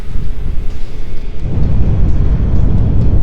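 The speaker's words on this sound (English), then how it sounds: "That was an explosion of sufficient magnitude to cause a breach." A heavy explosion in the space game Star Trek Online, a loud sustained low rumble that swells and rolls on for several seconds without fading.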